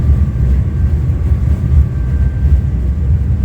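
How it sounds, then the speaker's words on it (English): Loud, steady low rumble of a catamaran's engines, heard from below deck, fills the space continuously, a dense droning noise with no pauses. "It's quite noisy down here with the engines running."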